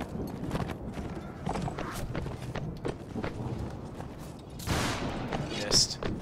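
Horse hooves clip-clop in a Mount & Blade Warband American Revolution mod battle, quick thudding steps mixed with scattered musket fire while players talk over it.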